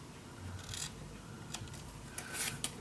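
Scissors snip paper for a winter-themed mini album, making a few quiet, brief crisp cuts and rustles close by in an otherwise hushed setting.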